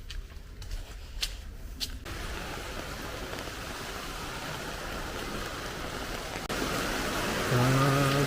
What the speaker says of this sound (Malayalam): മഴയൊക്കെ ചാറി വരുന്നുണ്ട്.